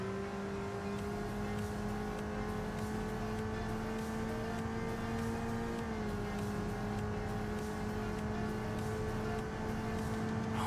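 A supercharged Mercedes with a Lysholm twin-screw supercharger drives in Enthusia Professional Racing, its engine droning loud and steady at high revs, pitch dipping briefly midway before holding again, with no speech.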